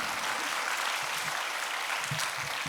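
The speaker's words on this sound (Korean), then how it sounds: "박수 좀 쳐요" Church congregation at a gospel meeting applauding: a fairly quiet, dense patter of many hands clapping, heard from a distance for a few seconds.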